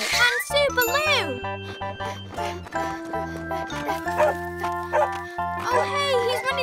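A cartoon dog in a children's animated show gives a rapid series of high yipping barks near and loud, with jingling and bouncy cartoon effects between the barks.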